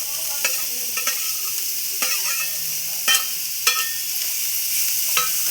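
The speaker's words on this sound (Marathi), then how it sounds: "त्याला थोडंसं 2-3 मिनिटं असं फ्राय करायचं आहे।" Onion, capsicum and carrot fry in a pan with a steady, close sizzle, broken by sharp clicks and scrapes of stirring at irregular moments; no one speaks.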